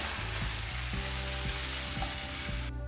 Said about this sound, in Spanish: Aquí solamente vamos a sofreír, a cocer un poquito para que suelten su aceite